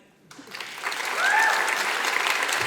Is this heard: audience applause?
yes